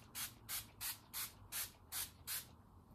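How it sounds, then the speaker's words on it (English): Seven short, even hissing bursts of fake tan spray come from an aerosol can close by, each about half a second long, in a steady rhythm with quiet gaps between. "you just spray it on and leave it on"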